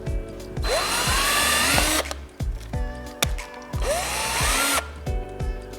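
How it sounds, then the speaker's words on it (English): A power drill whirs in two long bursts through the eyelets of an angle iron frame, winding up and spinning down each time, with short ratcheting clicks between them, close and loud. "hold the graphic and the frame in place as you drill a hole in the eyelets"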